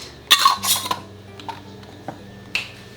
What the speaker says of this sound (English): Now we're gonna put on our rings and lids.